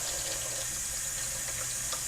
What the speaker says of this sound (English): Go over to the sink. And filled with cold water.